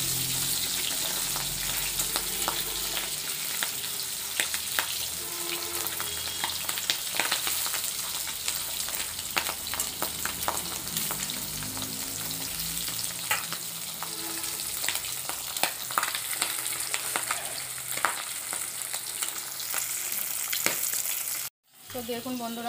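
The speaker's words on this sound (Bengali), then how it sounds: "মাছগুলো একবার উল্টিয়ে দেব। যা ফাটছে, কাছাকাছি যাওয়া যাচ্ছে না।" Boal fish fry in hot oil with a dense, continuous sizzle and frequent sharp pops and spatters, loud and close, broken by a brief dropout near the end.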